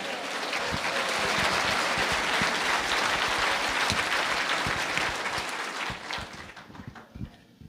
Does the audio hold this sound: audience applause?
yes